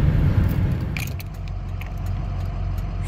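A truck with a Ford 6.0 Power Stroke diesel engine running while hauling cars, a close, steady low rumble with a few light metallic jingles near the start and no talking.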